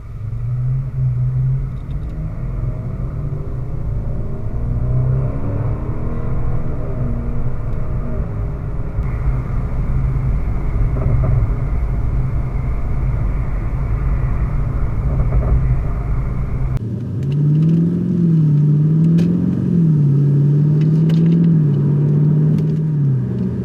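An Audi S8 cruises fast on an unrestricted German autobahn, heard from inside the cabin as a loud, steady low rumble of engine and road noise, with the engine note swelling and wavering as it accelerates toward the end.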